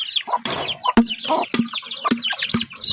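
Backyard chickens with chicks clucking while feeding, a busy run of short close clucks and peeps punctuated by sharp pecking taps.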